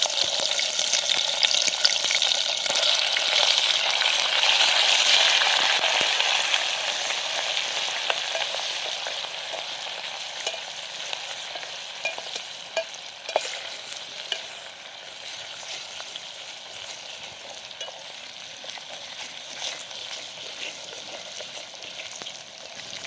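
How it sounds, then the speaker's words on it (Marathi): Ginger-garlic paste frying in hot oil with whole spices, a steady close sizzle that is loud at first and then settles lower and fainter, with no talk. "आलं लसूण चांगला तळून दिला"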